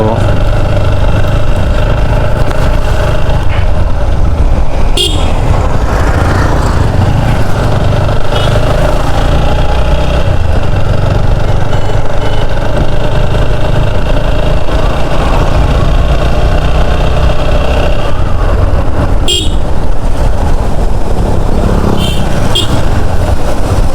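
A motorcycle carrying two riders drones steadily along a winding road, with loud wind buffeting and occasional sharp knocks.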